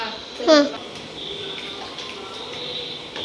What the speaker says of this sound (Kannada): ಪಾಸ್ತಾ ನೀರು ಹಾಕುವಾಗ